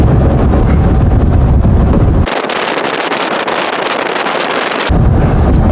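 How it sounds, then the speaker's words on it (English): Wind batters the microphone in an open Volkswagen Thing on the move, a loud, roaring buffet that briefly drops to a thinner hiss in the middle before the heavy low rumble returns. "It's a little windy here."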